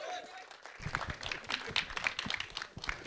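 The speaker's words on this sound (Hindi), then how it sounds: "एक बार जोरदार तालियां हो जाए" Applause from an audience, many hands clapping in a dense patter, with a voice speaking over it at the start.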